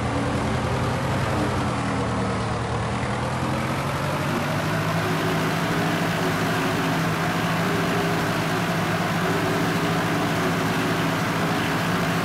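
A historical Farmall tractor engine in Farming Simulator 2013 runs with a steady, continuous low drone that holds at an even level throughout, with no talking.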